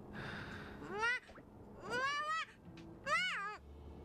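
A game cat meows three times in Honkai: Star Rail, each a clear, fairly close rising-and-falling mew, separated by short pauses over quiet background sound.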